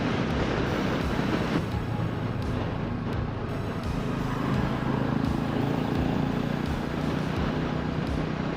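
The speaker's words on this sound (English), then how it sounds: "It's pretty windy." Heavy wind buffets an outdoor microphone in a steady, dense low rumble that runs unbroken throughout, with faint traffic underneath and no talking.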